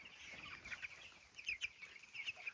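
Chickens in a poultry coop cluck softly and intermittently. Several short clucks and chirps rise toward the end over a quiet background.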